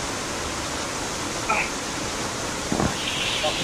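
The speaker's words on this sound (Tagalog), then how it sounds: "So yun yung talon." A waterfall roars as a continuous broadband rush of falling water, steady and fairly close, with a few brief incidental noises breaking through.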